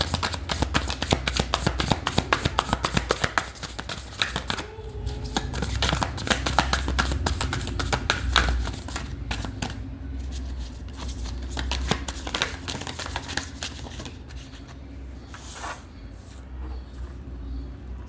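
Tarot cards being shuffled by hand, a long run of rapid papery riffles and flicks in bursts with brief pauses, close and clear, no talk.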